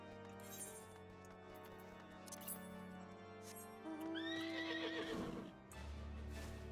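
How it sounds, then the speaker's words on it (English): In Final Fantasy XIV, a horse whinnies with a rising, wavering cry while hooves clip-clop beneath it, set against a sustained musical score and game effects, fairly faint overall. "Horse."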